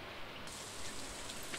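Rain falling in the farming game Stardew Valley, a steady soft hiss of drops with no other sounds, faint and even throughout.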